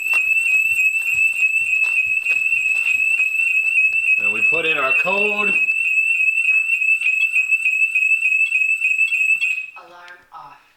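A home security alarm sounds a loud, steady high-pitched tone continuously with rapid pulsing, while a person talks over it; the alarm cuts out near the end.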